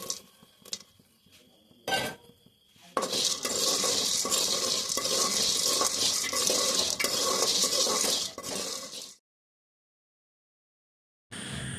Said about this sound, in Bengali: তো এখানে আমার মটর ভাজা বই গেছে দেখো